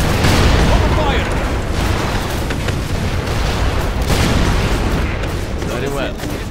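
RPG rocket launches and explosions rumble in C&C Generals Zero Hour with the Rise of the Reds mod: a dense, loud, continuous barrage of overlapping booms and blasts with no pause.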